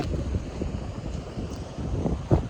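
Gusty wind at a Pacific Ocean lighthouse buffets the microphone with a low, rumbling roar that swells and eases, over a faint, distant wash of ocean; no one speaks.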